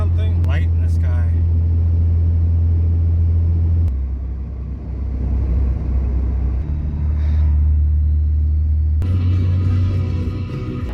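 A Chevrolet Suburban cruising on the road at night gives a steady, loud low rumble of engine and road noise that shifts character a few times throughout.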